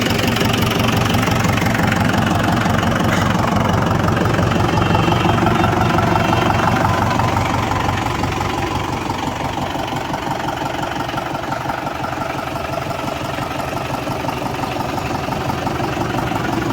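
A 2019 Mahindra 575 DI tractor engine idles steadily nearby, a dense low diesel rumble with a knocking mechanical throb that holds at an even level throughout, easing slightly partway through, with no voices.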